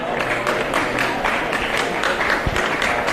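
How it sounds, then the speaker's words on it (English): A crowd at a country rugby league match gives a steady round of applause as an injured player leaves the field, scattered clapping filling the whole stretch at moderate distance, with a faint thud near the end. "A nice round of applause for Kameni as he makes his way to the sidelines."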